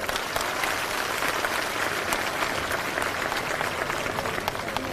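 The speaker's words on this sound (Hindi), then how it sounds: "एक बार जोरदार तालियां हमारे सभी बड़े बुजुर्गों के लिए।" Loud, sustained crowd applause at an election rally honoring elders, dense steady clapping from many hands lasting throughout without a break.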